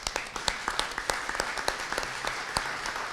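Sparse, uneven hand claps from a small audience at a lecture-style law course, individual claps distinct and fairly close, with no one speaking.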